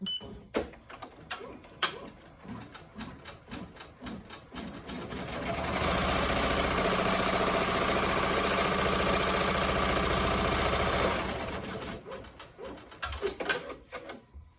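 An embroidery machine runs a placement stitch on an in-the-hoop Valentine coaster of vinyl or cork, a steady rapid mechanical whirring that starts after some clicks and handling, holds for several seconds, then winds down into more tapping.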